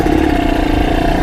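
A Kawasaki Ninja two-stroke motorcycle engine revs loud and close in a steady, buzzing drone, with no pause across the short burst before a hill climb.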